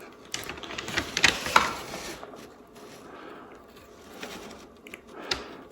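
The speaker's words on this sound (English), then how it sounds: "I'm going to come back and press down hard, and those things are going to fold down and dig into the wire a bit." Metal tabs pressed hard down onto a wire at a solar battery float-charge setup, making faint clicks, scrapes and crinkling mechanical noises in scattered bursts near the start and end.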